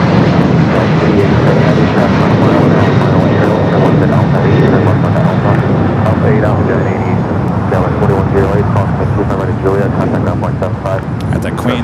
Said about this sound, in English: the Lufthansa Queen now makes that turn heading into the gates